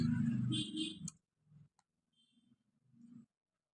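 Enter and Escape keys are pressed on a computer keyboard, giving two sharp, isolated clicks close by; a voice speaks briefly just before them, and faint murmurs follow in the near-quiet room.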